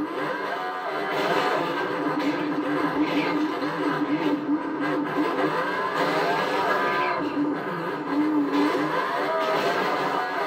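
A car driving in the Fortnite video game gives a steady, continuous engine drone that holds a fairly even loudness for about ten seconds, blended with other game sounds and no speech.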